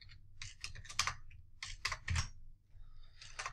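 Typing on a computer keyboard while writing in the nano text editor, with quick bursts of close key clicks separated by short pauses, and no voices.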